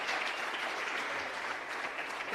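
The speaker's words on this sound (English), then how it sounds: "Please can we give her a round of applause?" Steady applause from the audience at a youth empowerment event, a dense, even wash of many hands clapping throughout, moderately distant and without breaks.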